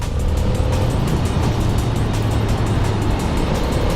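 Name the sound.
Ducati 800 Monster S2R motorcycle riding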